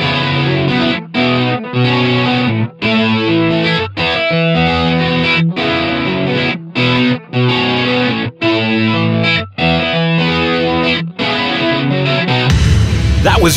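Electric guitar played through a 5150 high-gain amp preset with chorus in the TH-U amp simulator, loud distorted chords and riffs in choppy bursts with brief gaps, ending in a noisy wash.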